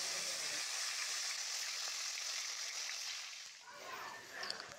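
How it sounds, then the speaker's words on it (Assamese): Pieces of fish fry in a pan for a village-style meal, giving a steady, close hiss of hot oil that eases off, followed by faint sizzling and clinks. "এপিচ এপিচ কৰি গোটেইখিনি মাছ ভাজি ল'ব এতিয়া"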